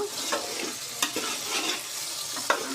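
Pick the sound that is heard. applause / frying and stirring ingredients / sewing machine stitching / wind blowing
frying and stirring ingredients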